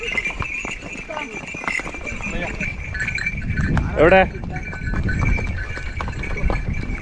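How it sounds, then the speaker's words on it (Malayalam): Horse hooves clip-clop at a steady walking pace, close by, with someone speaking briefly and some outdoor background noise. "നല്ല അനുസരണമുള്ള കുതിര, ഒറ്റയ്ക്കാ പോകുന്നു"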